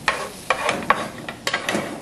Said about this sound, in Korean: 이렇게 재료들을 볶아서요